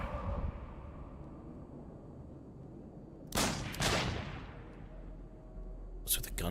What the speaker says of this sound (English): What's with the gunshots?